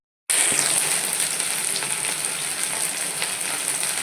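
Panch phoron whole spices tempering in hot oil, a loud, steady close-up sizzle that starts abruptly and holds its crackling hiss throughout, with no talk.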